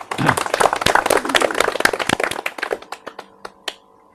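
An audience claps after a speech at an Independence Day gathering, a dense burst of hand claps that thins into a few scattered, isolated claps toward the end.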